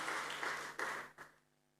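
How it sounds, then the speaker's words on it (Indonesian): A church congregation applauds during a sermon, a fairly faint burst of clapping that swells twice and then fades away over a low steady hum. "Tepuk tangan buat Tuhan Yesus."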